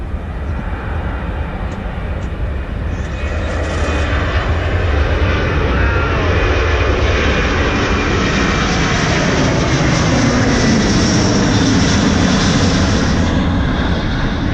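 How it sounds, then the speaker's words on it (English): A large passenger jet roars overhead at Charlotte airport, a loud, continuous engine rumble and whoosh that builds and holds steady throughout. "one of the bigger planes today"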